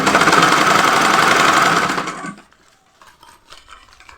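Sewing machine stitching a dress hem runs loud and steady for about two seconds, then stops, leaving faint fabric handling noises.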